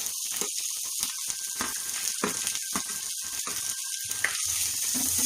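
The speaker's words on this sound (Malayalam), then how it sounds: "ഇത് നന്നായിട്ടൊന്ന് വഴറ്റിയെടുക്കണം." Green chillies, small onions and sliced onion sautéing in a pan for a mushroom masala, a steady close sizzle with faint watery hiss running the whole time, no talking over it.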